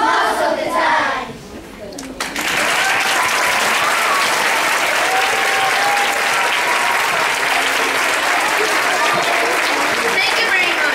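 A school audience at a fourth-grade primary jazz chant performance breaks into loud, sustained applause after a brief voice at the start, dense clapping continuing steadily with crowd noise underneath.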